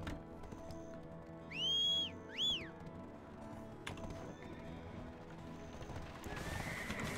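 A horse in the Black Desert Online game neighs twice in quick, bright whinnies, with steady clip-clop of hooves and faint game ambience continuing underneath.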